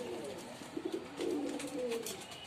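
Pigeon with pox cooing in repeated soft, throaty pulses, a short burst followed by a longer rolling coo, fairly close and moderately loud with no talk.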